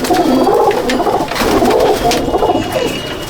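Racing pigeons of the Asad line cooing inside a loft in Jangipur, Murshidabad, a dense, continuous chorus of overlapping soft coos that stays close and steady throughout, with no talk.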